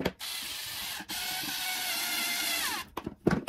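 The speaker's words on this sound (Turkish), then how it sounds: "Yine şarjlı matkap ile şarjlı matkap toplayalım." A cordless drill drives screws while assembling another cordless drill, its motor whirring in a short burst, then a long steady run, then a few quick stop-start spins, fairly faint and close.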